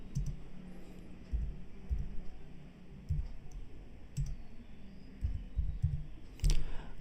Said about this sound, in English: I am typing with white space